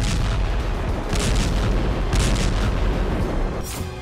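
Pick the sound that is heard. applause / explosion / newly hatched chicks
explosion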